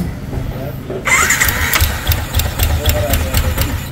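A Sniper 155 motorcycle with a faulty cam bearing fires up at close range, a short cranking burst followed by a rough, knocking idle, with a voice speaking over it.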